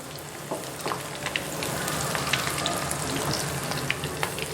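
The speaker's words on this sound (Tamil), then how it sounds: "ஸோ எண்ணெயில் போட்டதுக்கப்புறம் ஜல்லிக்கரண்டி வச்சு நம்ம திருப்பி போட்டுக்கலாம்" Banana flower pakoda pieces deep-fry in hot oil, a dense, even crackling sizzle with small pops and an occasional clink of a slotted ladle turning them, close and steady without speech.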